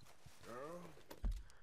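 Horse in the Red Dead Redemption 2 video game, with a brief rising-and-falling whinny-like call followed by a few soft hoof thuds, all faint and over quiet game ambience.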